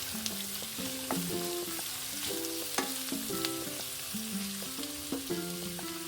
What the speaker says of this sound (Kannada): ಚೆನ್ನಾಗಿ ಫ್ರೈ ಆಗಬೇಕು, ಗೋಲ್ಡನ್ ಬ್ರೌನ್ ಆಗೋವರೆಗೂ.